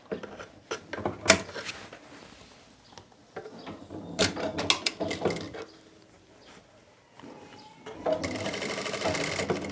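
A sewing machine runs the seat seam of open palazzo trousers in short, uneven bursts of close, clattering stitching, with handling knocks between runs and a longer steady run at the end.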